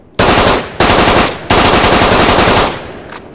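Three loud bursts of automatic fire from a PZ-58 machine gun in the video game Arma 3, each sustained burst cutting off sharply, close and alone without talk.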